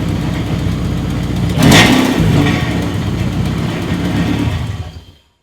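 Straight-piped BMW E36 engine running cold, a rough mid-pitched exhaust burble with one short rev swell near the start before settling and cutting off abruptly, no talking.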